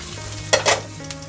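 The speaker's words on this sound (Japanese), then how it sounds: "フライパンは使い回す派のババアがこのフライパンで焼きししとうを作ります" Shishito peppers fry in a pan coated with leftover meat juices, a soft steady sizzle broken by a few brief louder bursts of stirring or tossing, close and without talk.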